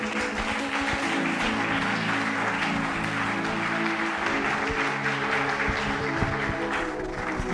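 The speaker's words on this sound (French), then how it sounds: "Acclame-le très fort le Seigneur." Congregation at a church service applauding and cheering loudly and continuously throughout, over sustained music and a dense wash of crowd noise.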